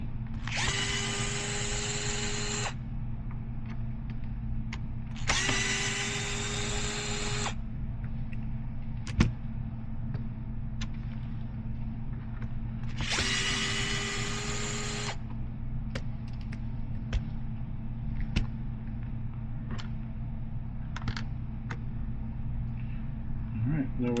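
Power drill removing screws from a Losi Sprint 22s RC car, three whining bursts of two to three seconds each separated by pauses, close and clear, with small clicks and handling noises between.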